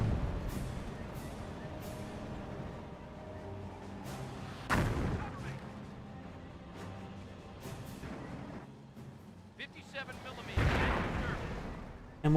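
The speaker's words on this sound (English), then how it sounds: "Mortar takes some pot shots" Mortar rounds in Company of Heroes boom out as several scattered, heavy thumps and blasts against a noisy battlefield, while someone talks steadily over them.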